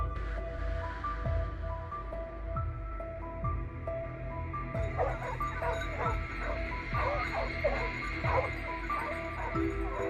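Hunting hounds bark and yip during a wild boar hunt on open hillsides, with repeated excited barks and whimpers at middle distance over steady outdoor rumble.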